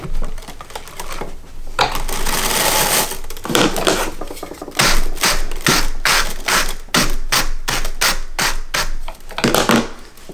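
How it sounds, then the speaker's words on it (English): Wool fiber is brushed off the drum of a drum carder, giving repeated scratchy, rasping strokes in an irregular rhythm, close and fairly loud with no talking. "keep using this brush to get the fiber off the drum and help get it organized"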